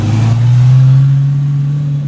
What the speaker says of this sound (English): Twin turbo, Audi R8, V10, all-wheel drive.